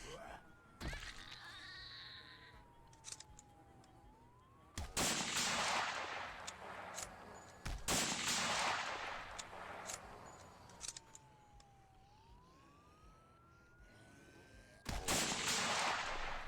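Bursts of video game gunfire ring out in three loud, broad blasts spaced a few seconds apart, with a rising and falling whine and quieter clicks and clatter between them.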